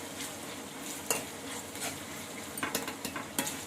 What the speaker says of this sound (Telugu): ఉల్లిపాయలు బాగా వేగిపోయినాయండి